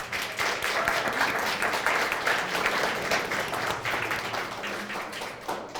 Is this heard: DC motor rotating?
no